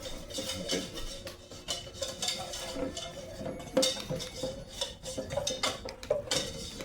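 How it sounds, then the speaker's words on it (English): A utensil works flour into a roux in a pot for beer cheese soup, giving fairly quiet, steady scraping and clinking against the metal in an uneven rhythm with no talk. "I will put the flour in here and mix up the roux"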